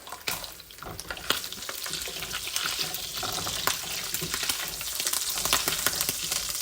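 Butter sizzles and crackles steadily in a hot pan while chicken, asparagus and peppers cook, with sharp pops and spatters scattered throughout at moderate volume and no talking.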